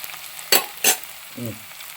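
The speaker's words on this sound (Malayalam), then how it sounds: "ഒരു അഞ്ചാറ് വെളുത്തുള്ളി അരിഞ്ഞിട്ട് കൊടുത്തു ഒരു കഷ്ണം ഇഞ്ചി അരിഞ്ഞത് ഇട്ട് കൊടുക്കുന്നു" Chopped garlic and ginger frying for Kottayam-style fish head curry, stirred in two short scraping bursts followed by a softer low clatter, close and fairly quiet with no talking.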